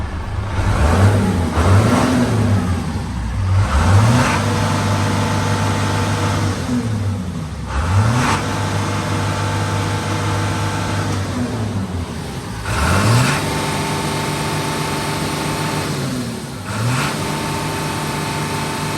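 The 6D14 diesel engine of a 1990 Fuso Fighter FK415E truck-mounted crane is revved repeatedly, about four or five sharp surges that climb and fall back to a rumbling idle between them, close by.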